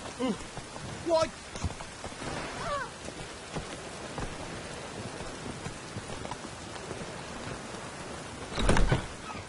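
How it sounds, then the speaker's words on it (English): Steady rain in the video game The Witcher 3: Wild Hunt patters throughout with scattered drops, plus a couple of louder thumps or rumbles standing out briefly above the downpour. "Rain again."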